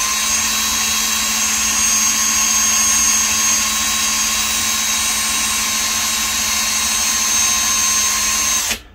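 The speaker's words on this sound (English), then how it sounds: "Make sure you don't drill through your table." Power drill boring into a fall display set on a table, a steady high-pitched whine running continuously for about nine seconds, close and loud, then cutting off abruptly at the end.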